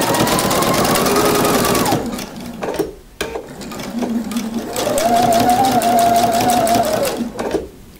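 Sewing machine running in two steady bursts while top stitching and understitching a pocket seam on a knit jumpsuit, close and loud with a brief pause between runs.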